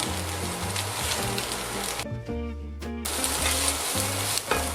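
Mushrooms sizzle and crackle in a hot pan, a steady close frying hiss with brief stirring noises and a short quieter gap midway.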